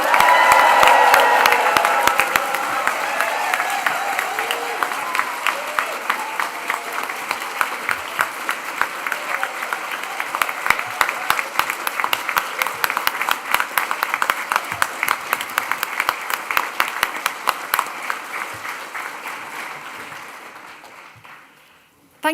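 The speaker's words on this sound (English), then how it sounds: "let's raise the roof with a huge cheer and round of applause for our graduates" A large crowd at an autumn university graduation ceremony cheers and whoops loudly, then settles into sustained rhythmic clapping that slowly fades over about twenty seconds.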